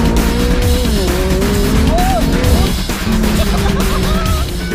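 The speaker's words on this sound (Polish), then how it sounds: "McLaren 570S." McLaren 570S sports car driving hard, engine notes sweeping up and down with tire squeal, loud and close for a few seconds, with music or sound around it.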